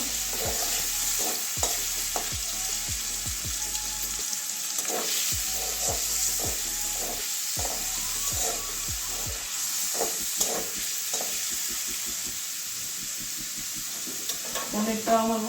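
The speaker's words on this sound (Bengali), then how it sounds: "বেশি ভাজবো না পনিরটা একদম হালকা করে ভাজবো" Cubes of paneer shallow-frying briefly in a hot pan, continuous sizzling broken by frequent close clinks and scrapes of a spatula stirring and lifting the pieces, with a voice talking faintly in places.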